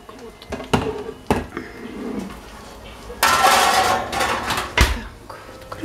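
A pan lid is handled while syrniki cook, producing several sharp metallic clanks and knocks, followed by a burst of louder sizzling from the pan, all close by.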